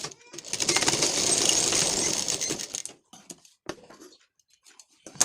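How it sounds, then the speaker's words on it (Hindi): Sewing machine double-stitching the lining of a blouse, a steady rapid run of needle clatter for about two and a half seconds, followed by a few scattered clicks and taps of handling. "अब इसमें हम डबल सिलाई कर लेंगे ताकि ये जल्दी से खुले ना"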